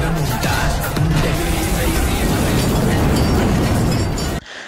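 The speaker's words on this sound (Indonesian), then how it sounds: "satu lantai telah hancur terkena ledakan dari Muruga" A large explosion in an Indian action film, tearing through a building floor: a loud, sustained roaring blast with crashing debris that cuts off abruptly near the end.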